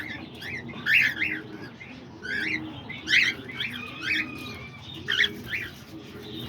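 Pet lovebirds, cockatiels and budgies chirping indoors, a lively mix of bright tweets and short calls repeating close by against a soft background rustle.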